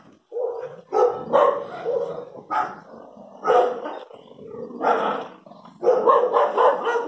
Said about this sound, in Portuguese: Os cachorros se pegando.